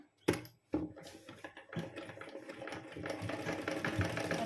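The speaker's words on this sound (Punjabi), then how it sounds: "ਇਸ ਤਰ੍ਹਾਂ ਇੱਕ ਸਲਾਈ ਲਗਾ ਦੇਣੀ ਹੈ" A sewing machine runs stitches along lace folded onto the edge of cloth. A couple of sharp clicks come first, then a steady, close mechanical whirr that speeds up and grows louder. No one speaks over it.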